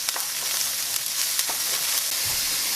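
Tomato paste sizzles in a pan with garlic as it is stirred, a steady close frying hiss broken by soft scraping strokes, with no voices.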